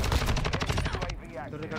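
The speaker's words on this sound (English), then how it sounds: "I think I should shoot at him." Rapid automatic gunfire in Modern Warfare 2, the STB 556 rifle, a dense stream of loud shots for about a second before cutting off into quieter game ambience with faint background talk.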